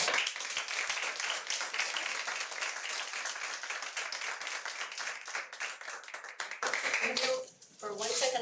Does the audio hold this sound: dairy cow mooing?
no